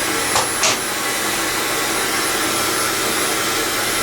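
A hair dryer runs steadily through a home blow-out, its broadband whoosh loud and constant while a bristle brush directs the hair, with two brief brush clicks early on.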